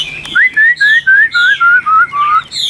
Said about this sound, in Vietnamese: Chim hót rất là tốt các bác nhá